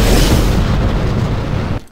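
Rocket launch in a video game at full 100% throttle, a loud, dense rumbling roar lasting under two seconds, then cutting off abruptly into quiet.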